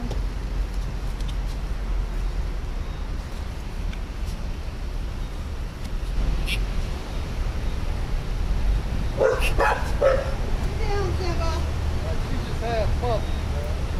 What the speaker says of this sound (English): Calm the dog down.